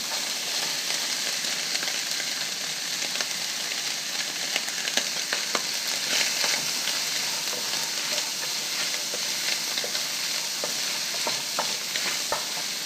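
Carrots and corn sizzle in a frying pan while fried rice with eggs and ham is being made, a steady close hiss with faint scraping clicks from stirring and no talking.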